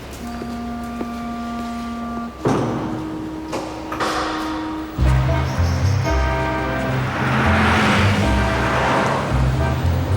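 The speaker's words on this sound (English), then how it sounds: "Nice car." A car arrives, its low engine rumble rising in after a steady tonal hum and a door-like thud, then a swelling whoosh of motion as it draws near.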